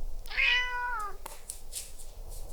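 A single cat gives one clear, drawn-out meow with a rising then falling pitch, close and fairly loud, followed by faint rustling and a quiet background.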